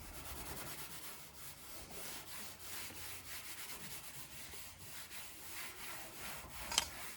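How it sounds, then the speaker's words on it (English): Scotch-Brite pad roughening a Porsche 914 part before painting, quick repeated scratchy rubbing strokes in an even rhythm, close and soft, with a small clink near the end. "now I'm just going to use a Scotch-Brite pad and roughen everything up."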